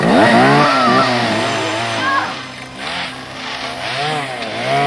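A chainsaw revs with a buzzing, wavering whine that rises and falls, loud and continuous, with some music or other noise mixed underneath.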